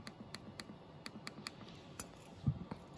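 Hotspot reset button pressed with a reset tool, a series of small sharp clicks in an irregular rhythm, close and quiet, with no talk over it.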